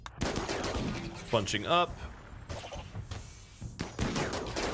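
Bursts of gunfire ring out in the colony game RimWorld, with several sharp shots and rapid volleys coming in clusters while someone talks over and between them.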